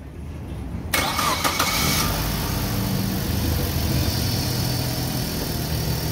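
A Suzuki car with a rough idling problem starts: after a quiet moment the starter cranks briefly, then the engine catches and settles into a steady, close idle.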